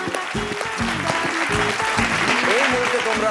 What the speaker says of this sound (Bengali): রূপঙ্কর এবং রূপঙ্করের বোনের জন্য একটা জোরে হাততালি।